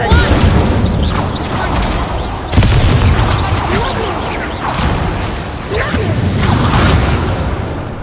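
Confringo and Incendio fire spells blast in Hogwarts Legacy, loud continuous roaring bursts with crackling, a sharp impact midway, and repeated surging waves, with a voice shouting over them.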